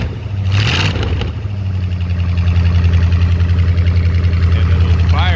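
A Mopar 413 V8 with a 727 transmission runs on a ground test setup, a loud, close, rumbling idle that swells into revs, with a brief sharp noise near the start.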